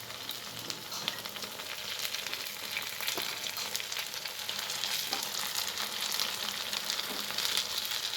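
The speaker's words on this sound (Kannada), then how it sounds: "ಈಗ ಸ್ವಲ್ಪ ಒಂದು 5-10 ನಿಮಿಷ ಫ್ರೈ ಮಾಡ್ಕೊಳ್ಳೋಣ" Potato seekh kabab pieces shallow-frying in a pan give a dense, steady sizzle and crackle that grows slightly louder, with faint taps as pieces are turned. Close and continuous, with no voices.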